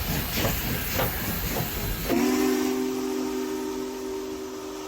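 Union Pacific Big Boy 4014 steam locomotive at a stop in the Ozarks, first chuffing and hissing steam, then a loud, sustained multi-tone steam whistle that sounds steadily for several seconds close by.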